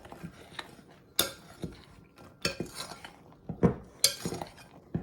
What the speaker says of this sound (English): I'm going to mix that up.